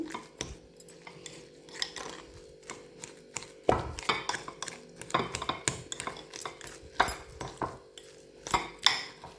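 A spoon presses and scrapes through a food mixture with breadcrumbs in a bowl, giving busy clattering knocks and soft scraping, close and fairly loud, with no talking.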